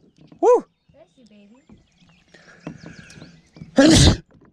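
Two sharp sneezes, a quick one early and a louder, harsher one near the end, break through quiet outdoor sounds while kayak fishing on a drained lake.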